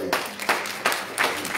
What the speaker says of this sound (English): Give God another hand clap of praise.